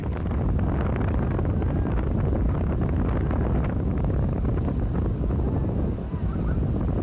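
Strong wind at a beach in Cox's Bazar buffets the microphone in a continuous low rumble, with a hint of surf underneath and no voices.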